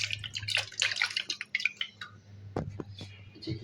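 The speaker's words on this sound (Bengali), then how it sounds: "সব পানি ফালাই দিছি" Dirty water is tipped out of a teapot in quiet, irregular splashes and drips, soft and close, with a brief louder splash partway through.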